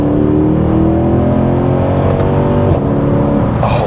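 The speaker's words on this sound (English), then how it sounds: "Oh wow, the upshifts are amazing in this thing." A Mercedes-Benz C63 AMG Black Series V8 roars loudly up through the revs, with a crisp upshift break near the end, close and raucous with no talking over it.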